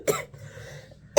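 Coughing from a person indoors, two sharp, close coughs about a second apart with a quiet pause between them.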